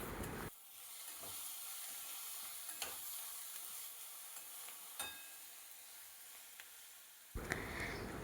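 Boiled potato and vegetables frying in oil for masala dosa filling, a steady soft sizzle and hiss with a few faint stirring clicks, starting and ending with brief louder bursts.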